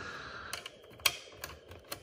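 Small Bandai Soul of Chogokin plastic accessory parts snapping onto a hangar-style display base give a few faint, sharp clicks, close and sparse against quiet handling noise.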